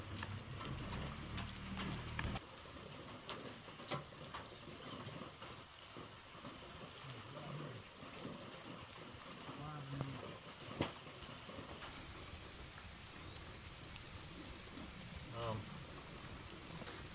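Steady rain falls outdoors on a humid, warm morning during hurricane preparation, a constant soft patter with occasional louder drips and faint voices now and then.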